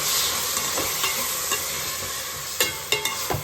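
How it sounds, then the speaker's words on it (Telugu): Two medium tomatoes fry in a pan with ginger garlic paste while an even, close sizzle carries on, broken by a few sharp scrapes of a stirring spoon near the end. "ఇలా అల్లం వెల్లుల్లి పేస్ట్ బాగా వేగిన తర్వాత ఇందాక చెప్పినట్టుగా రెండు మీడియం సైజ్ టమోటాలండి ఇది వేసేసుకోవాలి"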